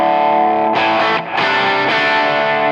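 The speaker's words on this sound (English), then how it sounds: "This is a great overdrive." An electric guitar played through a Boss overdrive pedal rings out in loud, sustained distorted chords, one held chord giving way to another with a short dip between them.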